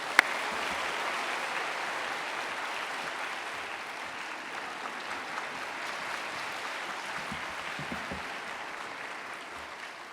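A Korean church congregation at a Sunday worship service gives a long, steady round of applause welcoming a pastor, with dense, even clapping that fills the hall and slowly tapers toward the end.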